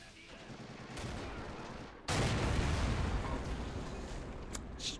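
Gunfire aimed at a Sherman tank in the World War II game Men of War crackles in a dense burst that swells abruptly into a loud, sustained barrage, with a voice talking underneath.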